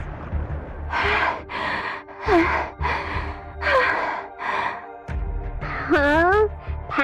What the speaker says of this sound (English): Panting so heavily?